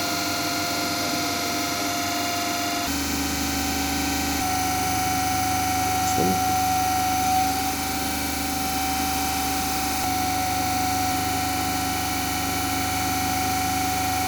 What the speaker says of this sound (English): Start the motor by using 2-point starter.